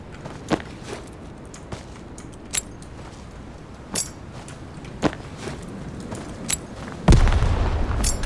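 Sharp thuds and bangs sound in the Road to Vostok shooter, with scattered impacts and footstep-like clicks before a louder frag grenade blast near the end gives way to a low, rumbling roar.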